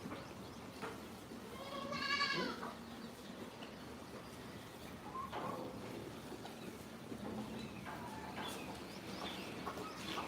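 A goat on a goat farm in India bleats once loudly, followed by fainter animal calls and bird chirps over a steady outdoor background.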